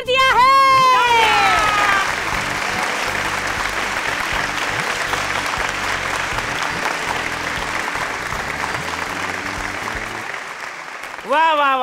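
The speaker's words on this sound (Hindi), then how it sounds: "मुन्ना ने बोला तालियां, तो तालियां शुरू कर दी।" A village crowd bursts into sustained applause, dense and steady for about ten seconds before stopping abruptly, with a voice calling out over the start and a sung or drawn-out vocal near the end.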